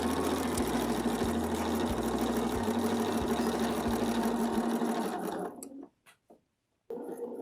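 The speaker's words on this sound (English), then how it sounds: "and continue stitching." A sewing machine runs steadily while stitching a quilt with a ruler foot, a loud continuous whir with faint rhythmic pulses for about five seconds before it stops, followed by brief bumps and a short resumption.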